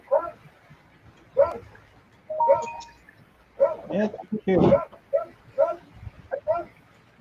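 A dog gives a run of short yips and barks at irregular intervals, fairly close, while a person talks in between.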